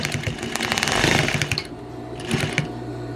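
A sewing machine back stitches a replacement zipper into a flapped coat, its rapid needle chatter running in loud bursts with a brief pause midway before resuming, close and alone.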